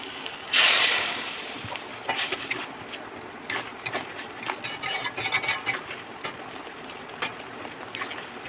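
Water sloshes and splashes inside a mixer grinder jar as it is rinsed and filled, with a bright rush at the start followed by irregular close swishing and clinking.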